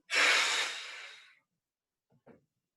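A long, forceful breath blown out during a power yoga breathing exercise, loud and airy for over a second before fading, followed by a couple of soft, faint breath sounds.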